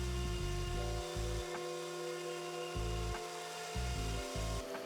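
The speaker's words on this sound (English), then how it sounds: "I'm using a grooving bit to cut a V-groove along each edge of the door." A router with a grooving bit cuts a V-groove along the edge of a solid wood cabinet door, giving a loud, continuous motor whine whose pitch dips and recovers as it bites into the wood.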